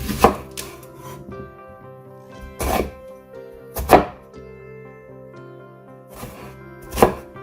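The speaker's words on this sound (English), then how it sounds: "Chop the onion into small pieces." A knife chopping a medium white onion into small pieces on a board, four loud, widely spaced thunks with quiet gaps between them, close up.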